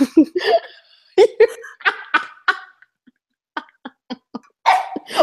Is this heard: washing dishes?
no